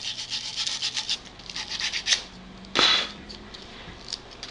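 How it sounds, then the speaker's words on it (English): Abrasive rubbing over carved acorns on a wooden cane, a run of short, soft scratchy strokes with a brief louder swipe near the end, close and alone. "Now that the undercutting's complete, we're going to sand."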